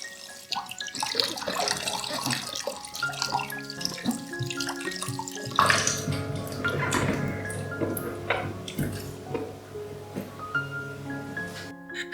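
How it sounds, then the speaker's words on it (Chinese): Bell peppers and cauliflower are rinsed under a running kitchen tap, with continuous splashing water punctuated by irregular sloshes and drips as the vegetables are handled, close and steady throughout. "首先，将灯笼椒和花椰菜洗干净备用。"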